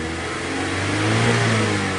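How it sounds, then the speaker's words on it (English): A Mazda 3 Skyactiv engine after a mass airflow sensor replacement, revving steadily and rising slightly in pitch, close and loud with no talk. "Let's rev it up."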